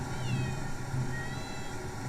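Family cat named Oddball meowing at close range, a couple of short tonal cries over a steady low background hum, no talk present.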